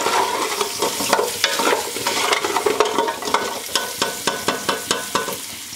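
Beef trotters fried in oil with salt and turmeric, a steady loud sizzle broken by rhythmic scraping and stirring strokes of a spoon against the pot, with no talking.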